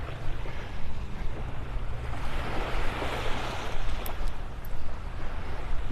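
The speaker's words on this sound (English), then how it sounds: "Oh, what a beautiful beach morning." Surf rolling onto a beach near Naples in the morning, a steady broadband wash of breaking waves with some wind rumble, continuous and fairly close, no voices.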